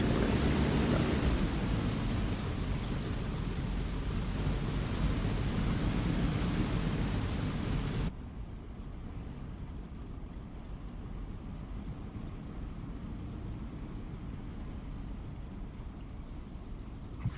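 P-47 Thunderbolt radial engine running in the DCS flight simulator: a loud, steady, dense droning roar that drops to a lower, more muffled level about halfway through, then holds constant.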